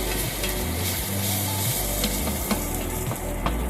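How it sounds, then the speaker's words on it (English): Guyanese pone cooks in a pan after being flipped, giving a steady, continuous sizzle with a low hum underneath and a few faint clicks. "We let it cook for a while."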